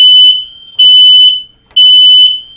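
A smoke alarm going off in a Factorio 0.16 game session, sounding piercing high-pitched beeps in a repeating rhythm of three long tones, loud and close with no voices.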